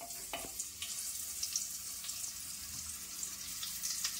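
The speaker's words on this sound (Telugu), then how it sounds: "ఆయిల్ హీట్ ఎక్కింది, కొద్దిగా పోసుకున్న లైట్గా, అందులో వేసేసి" Paneer pieces fry lightly in a little hot oil in a pan, giving a steady soft sizzle with scattered small crackles and pops throughout, no voices.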